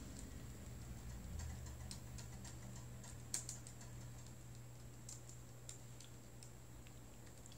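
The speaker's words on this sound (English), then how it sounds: "I'm going to type in one phrase." Keys on a computer keyboard tap out a short phrase in scattered light clicks, near and fairly quiet, over a low steady hum with no talking.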